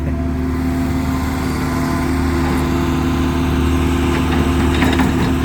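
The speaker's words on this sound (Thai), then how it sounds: "เร่งเร่งเครื่องแรงไปนิดนึงไง" A vehicle engine runs hard under heavy throttle, a loud steady mechanical roar with a constant low hum and rough high rattle, rising slightly toward the end, with no talk over it.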